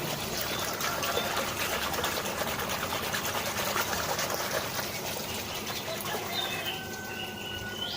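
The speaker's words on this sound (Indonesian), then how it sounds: "Dan dibantu sama aerator, jadi aerator untuk memutarkan air." An aerator keeps hydroponic nutrient solution circulating, giving a steady bubbling, fluttering water churn at an even level throughout, with no voices over it.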